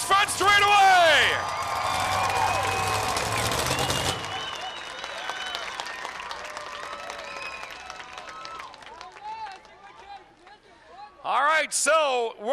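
A large crowd at a speedway race night cheers, whoops and claps loudly, fading into scattered applause and whistles before swelling again near the end.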